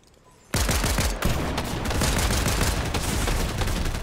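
Rapid bursts of shotgun fire from a drum shotgun in a Fortnite match, loud and dense after a brief quiet start, with shots overlapping into a continuous barrage.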